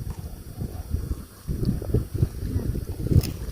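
Gusty wind blows outdoors at the Kedung Ombo reservoir, rumbling against the microphone in uneven surges of low buffeting noise that rise and fall over a few seconds.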